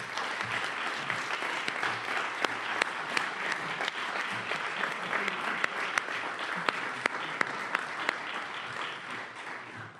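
Audience at a university investiture ceremony applauding warmly, a sustained dense patter of many hands with occasional sharper claps, steady and moderately loud for the full length.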